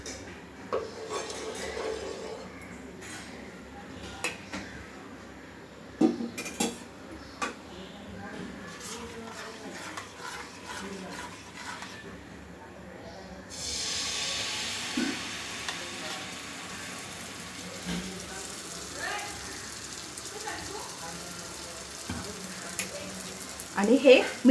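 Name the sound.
oil added to a hot pan for frying malpua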